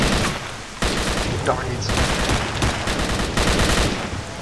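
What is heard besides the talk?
gunfire in video game STALKER Shadow of Chernobyl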